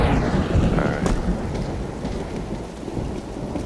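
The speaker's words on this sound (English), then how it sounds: "That's a lot of thunder." Thunder rumbles low and rolling beneath steady heavy rain on a night rain map in a shooter video game, a dense and continuous storm with no voices.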